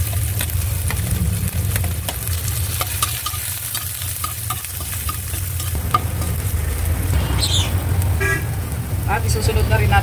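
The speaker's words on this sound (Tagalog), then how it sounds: "mainit na yung ating mantika, kaya ilalagay na natin yung ating luya" Ginger and garlic sizzle steadily in hot oil in a pan, a constant frying hiss with occasional stirring scrapes close by and faint background noise from outside.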